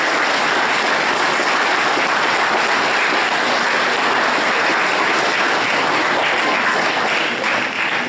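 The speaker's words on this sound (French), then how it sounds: "Voilà, on peut les applaudir." A church congregation applauds the children at a Christmas Eve service in Cléguer, sustained dense clapping filling the room at a steady loud level for the whole stretch, easing slightly near the end.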